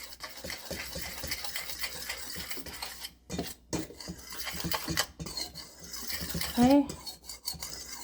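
Baking soda, salt and cinnamon being mixed into flour for honey banana bread: a utensil scrapes and taps against a bowl in steady strokes, with a brief pause partway and a short spoken word near the end.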